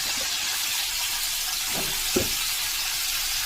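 A constant hissing sizzle of pumpkin and other vegetables, coated in salt and turmeric, frying in a pan, with a couple of soft knocks partway through.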